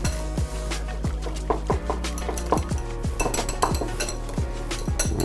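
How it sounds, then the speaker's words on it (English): A marinade with black pepper being whisked in a bowl, a run of rapid metallic clinks and taps of the whisk against the sides, close and fairly steady. "Give that a whisk."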